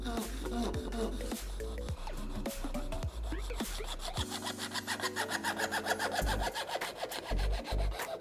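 Homemade jewellery saw cutting a PVC pipe, producing rapid rhythmic back-and-forth sawing strokes up close, steady and brisk, with a voice talking over the cutting at times.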